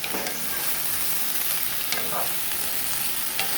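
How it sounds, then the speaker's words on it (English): Vegetables sautéing in a pan for salmon kabobs give a steady, close broadband sizzle, with a few sharper scrapes and clicks of stirring scattered throughout. "So we're gonna saute that."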